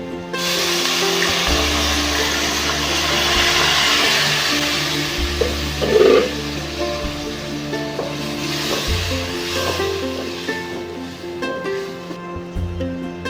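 Blended onions drop into hot oil with dried chilies and fry with a steady sizzle, broken by scraping stirs and a few louder clatters of the pan.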